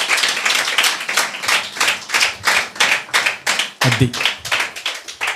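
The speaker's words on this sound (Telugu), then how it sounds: "చప్పట్లు కొట్టు" A church congregation at an IPC church in Nandikotkur claps in steady, rhythmic bursts for several seconds while a voice speaks over the clapping.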